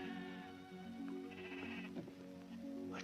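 Sheep bleating in an outdoor setting, several overlapping drawn-out bleats from a flock, close and clear, with a faint rustle of movement between calls.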